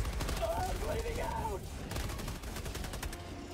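Helldivers 2 gunfire in rapid bursts and fusillades, fairly distant and moderate in level, with voices talking at moments over the shooting.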